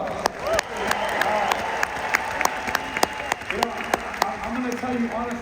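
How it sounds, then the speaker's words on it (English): Audience applause at a live event with an emcee, a steady wash of clapping with sharp individual claps standing out and crowd voices running underneath throughout. "So let's please give them a round of applause."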